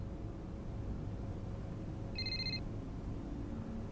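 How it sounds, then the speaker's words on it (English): A telephone ringing in the F1 2021 racing video game, a single short electronic ring burst in the middle over a constant low hum of background noise. "we're going to answer this phone call"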